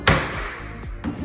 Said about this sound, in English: Take a screwdriver and a hammer, pop that bottom hinge out.